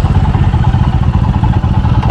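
A group of motorcycles ridden together, including a Dominar 400 and a Himalayan, rumbling nearby with a loud, steady engine drone and slight pulsing throttle, without speech.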